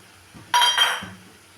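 Jeera rice being mixed in a pan with ground black pepper and chopped coriander leaves, giving a short burst of clinking and scraping from a utensil against the pan, close and fairly loud, with no talking.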